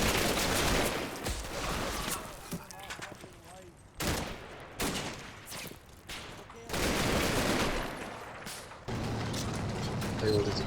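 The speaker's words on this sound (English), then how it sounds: "An MG fire rakes across through" Machine gun fire in a Combat Mission battle sounds as repeated rattling bursts, loud and close, broken by brief pauses, with talk present in places.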